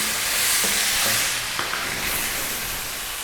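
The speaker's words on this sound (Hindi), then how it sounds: "अब हम इसमें टमाटर का पेस्ट शामिल करेंगे।" Garlic and spices sizzle loudly in a hot pan as tomato paste goes in, a steady bright frying hiss with a few soft stirring knocks, heard alone without talk.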